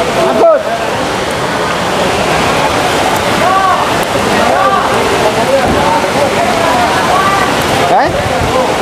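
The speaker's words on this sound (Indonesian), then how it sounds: "hujan gede banget luar" Heavy rain pouring outside a market, a loud dense hiss of downpour that runs continuously, with occasional clatter and faint voices in the background.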